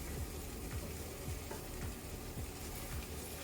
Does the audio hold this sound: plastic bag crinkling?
no